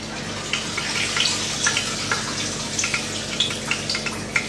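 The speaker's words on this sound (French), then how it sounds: "On lave toute la viande. On rince toute la viande." Water runs steadily over raw meat as it is washed and rinsed, a close, continuous splashing broken by small clinks and drips; no voices.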